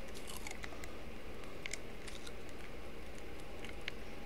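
Crunchy blueberries being eaten in the survival video game The Forest, quick soft crunching bites over a steady ambient game background, faint and close.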